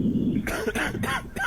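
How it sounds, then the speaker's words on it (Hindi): A zombie patient in a doctor video game coughs in a few short, rough bursts, fairly close and alone without talk. "अरे अरे बहुत खांसी हो रही है इसे।"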